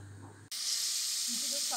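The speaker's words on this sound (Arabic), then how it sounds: "ونعملوها فوق النار ونشحروا هاد المقادير." Chopped celery and garlic hit hot olive oil in a cooking pot, a sudden loud sizzle bursting in after a brief moment of speech and then holding as a steady bright hiss.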